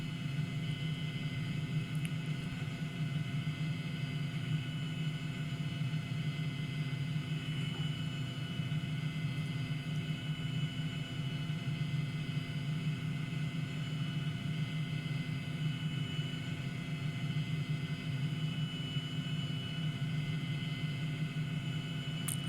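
Helicopter in a flight simulator video game, a steady faint rotor-and-turbine drone with a low hum and constant whine that never changes.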